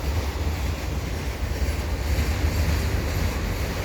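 An eastbound CN general manifest freight train rolls past at Dorval Ramps, a steady, loud, close rumble of wagons with broadband wheel noise and some wind buffeting, unbroken throughout.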